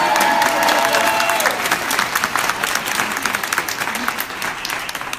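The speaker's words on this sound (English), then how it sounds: "Can we have a big round of applause for Lisa" Audience at a live farewell panel show bursting into loud applause with some cheering, dense clapping that gradually thins into scattered claps over about five seconds.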